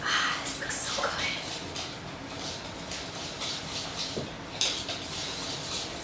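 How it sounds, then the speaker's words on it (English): Coffee crumb cake batter being mixed in a bowl, with a utensil scraping and clinking against the sides in an uneven stirring rhythm, close by under a voice talking. "So we mix that up really well."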